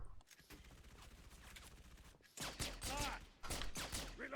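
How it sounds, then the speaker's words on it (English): Rapid bursts of gunfire from Halo 3 ODST Firefight against the Flood, dense and loud, repeating in clustered volleys with brief gaps and no talk over them. "Getting shot on the back."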